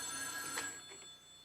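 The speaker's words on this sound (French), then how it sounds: "Non, non, laisse faire, Julie, je vais aller répondre." A telephone rings indoors in a home, one electronic bell burst with a sustained shrill tone that fades off, fairly faint and alone without talk.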